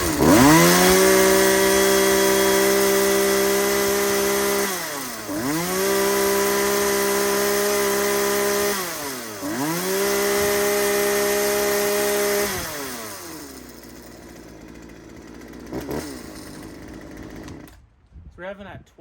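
A chainsaw engine runs loud and close, idling steadily and then surging through several rev-ups and drops before cutting out near the end; no one speaks over it.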